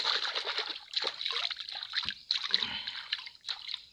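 Water splashes and trickles close by in a rural countryside spot, in irregular bursts and sloshes of moderate loudness.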